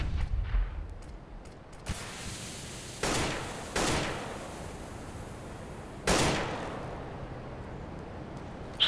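A smoke grenade going off in CS:GO, with four sharp broadband bursts of hissing release, each fading out, spread unevenly over several seconds against low game ambience.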